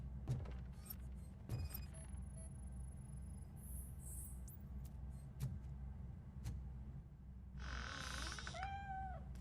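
A cat meows several times in a RoboCop: Rogue City game scene, short rising and falling calls over a low, steady ambient hum with scattered small clicks and knocks, no talk.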